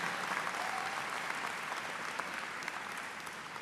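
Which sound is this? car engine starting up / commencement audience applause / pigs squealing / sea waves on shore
commencement audience applause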